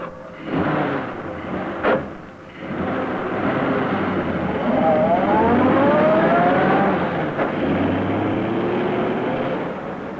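A car engine turns over and builds into a sustained rising drone, with a couple of brief knocks early on.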